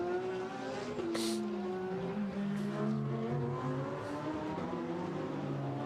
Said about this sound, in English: Away goes the Ferrari then.